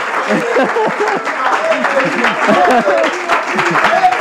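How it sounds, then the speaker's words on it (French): Audience applause during a school prize ceremony at a show final, with clapping heard beneath loud overlapping voices and cheers close to the microphone. "Est-ce qu'on va applaudir très fort?"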